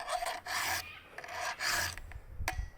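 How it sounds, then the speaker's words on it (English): A round file rasps across a chainsaw chain during sharpening out in the field, in short repeated strokes with brief pauses between them, close and clear with no talking. "haven't done a lot of round filing lately"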